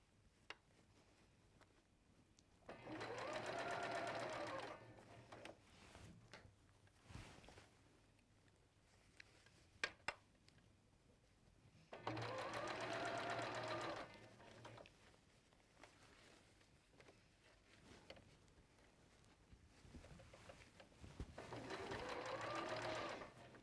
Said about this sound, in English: So once you've sewn the sleeve in, you just got the side seams to do.